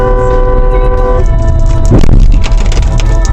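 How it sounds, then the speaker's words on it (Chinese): A car horn sounds on a busy city road, aimed at a taxi ahead. Several loud sustained honks ring over heavy traffic rumble, with a brief louder whoosh midway. "车主只是鸣笛"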